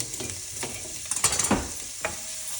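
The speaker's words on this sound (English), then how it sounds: "just saute them for a little bit." Diced onions sauté in a single pot, a light sizzle broken by spoon stirs and scrapes, with a cluster of sharper clatters mid-way and one more near the end, close and without talk.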